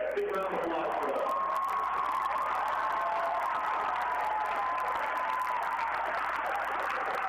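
A gymnasium crowd applauds and cheers for the Winter Royalty candidates at halftime of a college basketball game, a broad, continuous wash of clapping and voices at an even level, with an announcer speaking over it.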